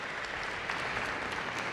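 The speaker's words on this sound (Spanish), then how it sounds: "despedimos con un aplauso" A brief burst of steady audience applause for the panelists at a national-week panel session, dense and even, sounding at a moderate distance.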